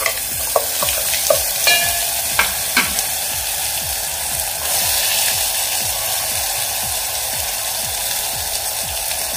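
Ground masala paste with asafoetida sizzles and fries steadily in hot oil for a kadhi, with repeated scraping stirs and a few sharp clicks of the spoon against the pan.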